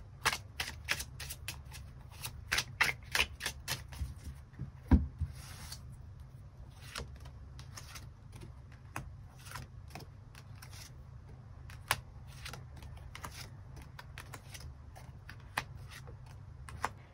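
Tarot cards are shuffled and drawn by hand in a run of crisp, rapid papery riffles and taps, close and fairly quiet, with one sharper snap near the middle and no voices.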